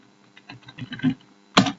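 Keys clack on a computer keyboard in a quick burst of close, crisp taps, a short pause, then one louder keystroke cluster, with no talking.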